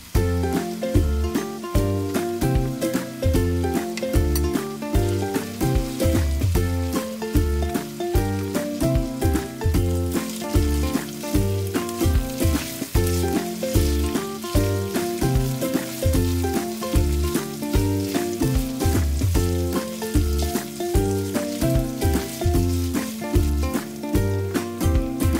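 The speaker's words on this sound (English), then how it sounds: "Toast it well to bring out the good flavor." Meat and tomato paste toast in a pan for Pampanga-style pistu, giving a dense, continuous crackling sizzle with steady popping throughout, close and alone with no talk.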